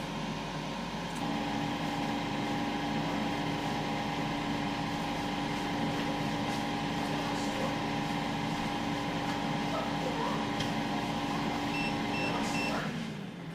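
A SARKI XL air fryer runs during cooking, giving a steady low fan whir and hum with faint high whine. It continues evenly, then cuts off near the end.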